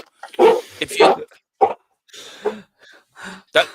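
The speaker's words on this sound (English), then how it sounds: "That's my puppy letting me know the postman's here." A puppy barks at a postman in short, loud yaps spaced across the moment, mixed with people talking nearby.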